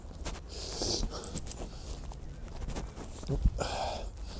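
A leashed dog out on a walk reacts as it passes other dogs, giving short whimpering and huffing sounds among footsteps and outdoor noise, with one sharp louder burst near the end.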